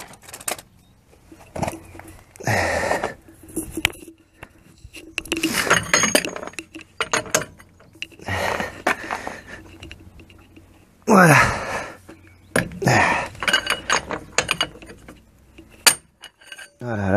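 A wrench lengthened with an extension tube loosens a wheel bearing nut on a Fiat Ducato front wheel. Repeated metallic clinks and scraping strains come in uneven bursts, with a sharp crack-like clank partway through.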